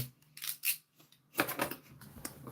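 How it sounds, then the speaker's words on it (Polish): Sharp knife slicing through plastic shrink-wrap foil on a cardboard box, heard as a few quick crinkly tearing strokes in two bursts with a short pause between, fairly close and moderately loud. "Sztubox przecięty, jak widzicie, ładnie folia schodzi. Jak jest ostry nożyk, to i ładnie schodzi"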